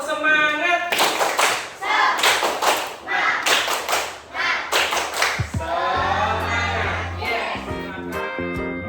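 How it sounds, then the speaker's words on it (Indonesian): A classroom of children performs a rhythmic spirit clap, tepuk semangat, with bursts of patterned clapping in sync, then a teacher's voice follows near the end. "Tepuk semangat."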